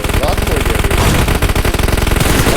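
Rapid automatic gunfire from the PUBG Mobile shooter game rattles in dense, continuous bursts, loud and close, with a voice talking over it.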